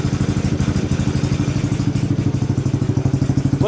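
A Kawasaki KLX110 dirt bike engine idles close by, a steady, even putter of rapid firing pulses with no revving, holding constant throughout.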